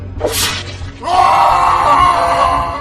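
A man screams in agony after being stabbed in the back with a sword, a loud drawn-out cry that starts after a brief sharp whoosh and holds strong to the end, dramatised for a Hindi horror story.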